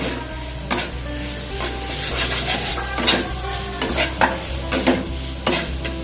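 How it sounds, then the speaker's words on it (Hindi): Fried paneer stirred into a hot pan of sizzling ketchup and Maggi masala, a steady frying hiss under repeated scraping stirs of a spoon against the pan, close and fairly loud. "अब मैं इस पे जो मैंने पनीर फ्राई करके रखा था वो पनीर को डाल दूंगा"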